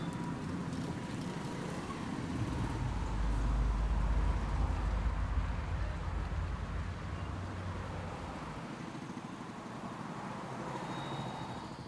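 Road noise from a traffic jam: a steady, low rumble of engines and passing vehicles that swells heavier in the middle and then settles, with no distinct horns or voices.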